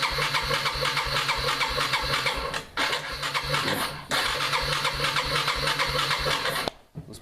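A 2001 Bear Tracker ATV engine starts cold and runs with a steady, loud, close mechanical drone and a fast rhythmic thump, with brief dips in level near the end.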